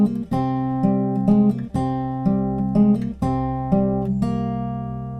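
Fingerstyle acoustic guitar plays the final position of the Game of Thrones theme, with a steady rhythmic pattern of plucked notes and chords ringing clearly and close, with no voices.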